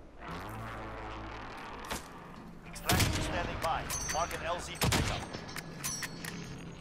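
Gunfire from Call of Duty: Modern Warfare, heard as sharp shots and short bursts. Two louder volleys land near the middle and the end, mixed with game noise, and voices talk over them.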